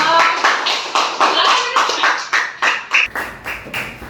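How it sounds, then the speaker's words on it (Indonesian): A group of schoolchildren clap in a classroom at the teacher's request, about a dozen uneven bursts of claps at a fairly close range that stop abruptly near the end. "tepuk tangan dong"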